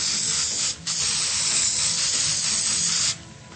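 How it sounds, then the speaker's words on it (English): Glitter spray hisses from an aerosol can in a long, loud burst, broken by one brief pause, then cut off sharply. "I'm going to spray this first one with a little bit of glitter spray."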